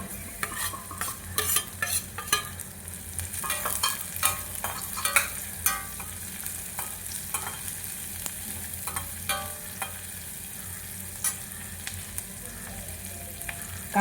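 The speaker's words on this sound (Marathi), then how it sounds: "आपण पटकन यात जिरे घालू आणि कांदा घालू." Cumin and onion frying with peas in a pan, a steady sizzle beneath frequent close stirring scrapes and taps, without talk.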